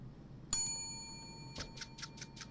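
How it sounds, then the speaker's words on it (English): A bell rings once in the VR workshop game Vrkshop, a bright metallic ding that rings out and decays, followed by a quick run of about six light ticking taps. "Ring the bell."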